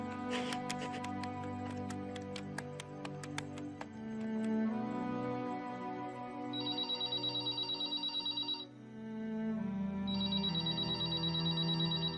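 Telephone ringing in a Hindi-dubbed sports drama film, electronic ringtone tones repeating in bursts over a background music bed, clear and fairly loud with no talk.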